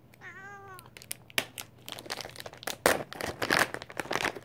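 A white cat lets out one clear, wavering meow near the start, followed by busy crinkling and crunching of a treat bag or snack packaging that continues to the end.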